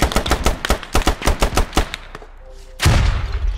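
Gunfire in the Squad video game: a rapid, loud burst of close rifle shots in an even rhythm, then a pause and one heavier blast, with no talk.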